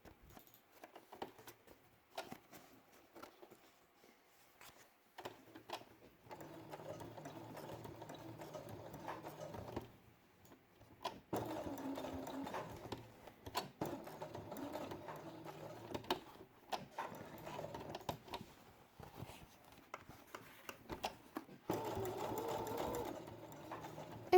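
A sewing machine stitches an orange felt circle for a quiet book in several quiet runs of rapid whirring, separated by short pauses, close and fairly faint.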